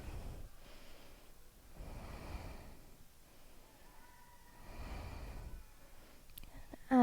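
Slow breathing held through a hip and twist vinyasa pose, faint and close, with several long airy inhale and exhale swells in a quiet room and a brief clatter at the very end.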